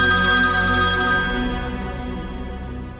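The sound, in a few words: phone ringing, call from Vipul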